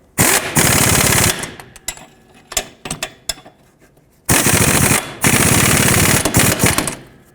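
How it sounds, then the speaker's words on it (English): An impact-style power tool snugging the rear strut nuts on a 2002-06 Toyota Camry during a strut and spring assembly replacement, loud close rattling bursts of hammering with short pauses and small clicks between them. "I'm going to start on both of the nuts and snug them up."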